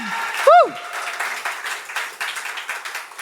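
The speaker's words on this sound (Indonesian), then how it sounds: "Tepuk tangan dulu untuk Mas Iksan" Audience applause for a musician at a live café concert in Pamekasan, a steady patter of clapping from a small crowd after a brief whistle-like tone, continuing evenly under the room ambience.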